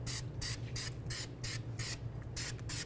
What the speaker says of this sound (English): After you've done scraping it down, go ahead and clean it down with some parts cleaner.